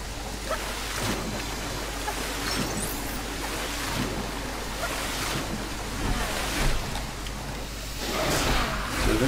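Water in the LEGO Harry Potter video game, Chamber of Secrets level: a steady wash of splashing, surf-like water noise running throughout at moderate level, swelling slightly toward the end, with no clear talk over it.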